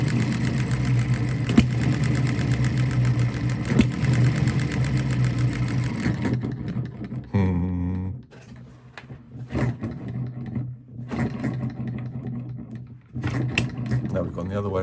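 A hit-and-miss model engine running slightly rich chugs steadily and close for several seconds, then turns patchy with irregular firing bursts and gaps while someone talks over it.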